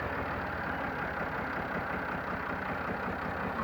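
A 2018 Massey Ferguson 360 tractor engine runs at a steady, even drone, close and continuous for the whole stretch with no voices over it.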